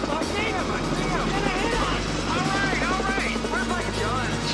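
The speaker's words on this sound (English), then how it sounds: "The chopper's got a bazooka!" A movie-scene helicopter carrying a bazooka flies close overhead, its steady rotor thrum and engine roar continuous throughout, with excited voices shouting over it.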